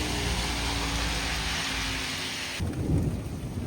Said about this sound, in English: We're getting thunder now.